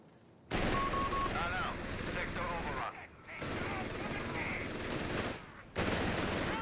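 Heavy machine gun fire rattles in long, loud bursts in the Company of Heroes 3 strategy game, broken by two brief pauses, with other battle noise and a voice talking underneath.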